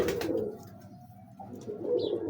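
A large, sturdy breeder pigeon coos close by, one low soft throaty coo sustained through the middle of the short clip over a quiet background.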